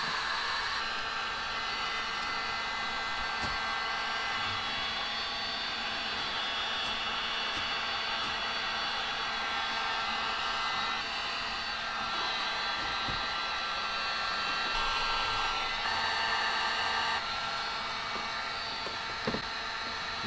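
A heat gun blows continuously on the adhesive of a Stage 2 Wicker Bill spoiler winglet on a C7 Corvette Z06, a steady, loud whooshing whine held for twenty seconds with only faint clicks.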